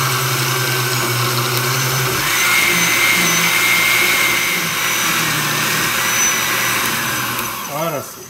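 A blender runs continuously, pureeing pumpkin soup with water, a loud steady motor whir with a brief shift in pitch, then slowing and winding down at the end.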